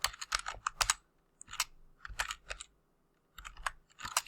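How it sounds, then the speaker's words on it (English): Computer keyboard typing, close and crisp, with short bursts of clicking keystrokes separated by brief pauses, heard alone without talk. "just type 1 and then space and then finished floor"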